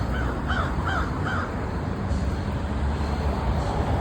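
A crow caws at an ibis on a Florida street, giving three quick harsh calls in a row before falling silent, all over a steady wash of nearby road traffic noise.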